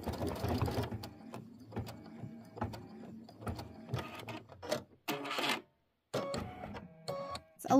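An embroidery machine stitches a quilt block with a mechanical, buzzing whir in uneven bursts, close and fairly quiet, with brief pauses and one short stop between runs.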